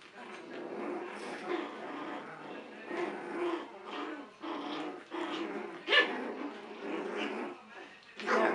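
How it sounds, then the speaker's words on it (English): Six-week-old puppies bark, yip and growl in a steady jumble of overlapping bursts, close by indoors, with a few louder sharp barks near the end. "Here's the puppies."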